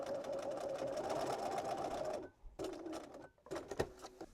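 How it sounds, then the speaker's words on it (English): A sewing machine stitches the side seam of a drawstring pouch, running in a steady close whir for about two seconds, stopping briefly, then resuming in shorter bursts with small clicks. "Now I'm ready to just sew a few stitches along this side seam on each side to tack down this pleat."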